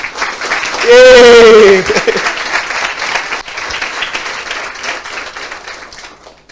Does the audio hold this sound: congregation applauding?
yes